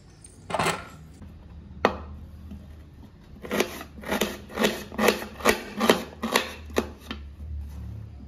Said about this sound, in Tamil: இப்போ சின்னதாக கட் பண்ணிக்கலாம் தக்காளியை